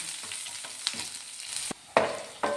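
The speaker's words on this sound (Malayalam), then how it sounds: "ഒരു രണ്ട് കറുകേപ്പില ഒരാറേഴ് ചുവന്നുള്ളി അരിഞ്ഞത് ഇനി ഇതൊന്ന് നന്നായിട്ട് മൂപ്പിച്ചെടുക്കണം" Curry leaves and chopped shallots fry in hot oil for a Malayalam-style taro (chembu) curry, with a steady close sizzle broken by a few sharp scraping stirs and a louder crackling burst near the end.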